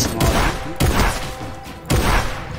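Shotgun in Fortnite firing three heavy blasts spaced about a second apart, each a loud booming thud with a short decaying tail.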